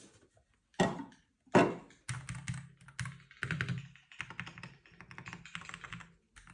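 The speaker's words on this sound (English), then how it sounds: "And now to the keyboard." Keys clacking on a computer keyboard, recorded through a Fifine K688 microphone: two heavy thumps, then a fast, steady burst of crisp typing, close and fairly loud with no talking.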